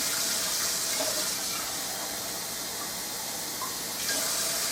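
Steady running warm tap water streams into a cup, a continuous bright hiss that holds even throughout with no voices.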